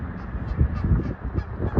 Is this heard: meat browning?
no